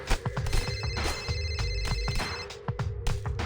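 A phone rings for an incoming voice call in the Teenage Mutant Ninja Turtles: Mutants Unleashed video game, a repeating electronic ring with a steady tone that pulses in even bursts, fairly quiet under game sounds.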